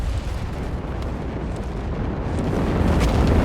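Stuka dive bomber barrage in Company of Heroes 3, a Wehrmacht and Afrika Korps versus British and US forces match: a continuous dense rumble of overlapping explosions, steady and loud, swelling slightly toward the end with no voices.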